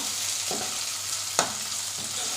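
Scrambled egg frying with ginger-garlic paste in a pan, a steady close sizzle with a few sharp spatula scrapes, one louder clack near the middle, and no talking.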